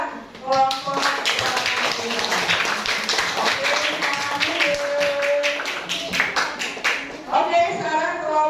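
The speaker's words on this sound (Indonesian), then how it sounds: "sekali lagi tepuk tangan buat kelompok uang" Classroom clapping for a student group in an elementary school lesson, a dense, steady patter of many hands lasting throughout, with voices mixed in.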